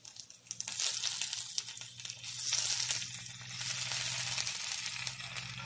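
Chopped tomatoes go into a pan of onion and ginger frying for prawn masala, raising a loud, steady sizzle with crackling and a few stirring scrapes that lasts throughout, close by and without talk.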